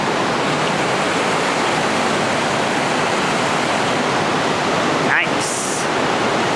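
White water rushing through the river gorge at Watersmeet, Lynmouth, a loud, steady, close roar that runs unbroken throughout, with one brief extra sound near the end.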